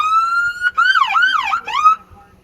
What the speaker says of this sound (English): From the siren here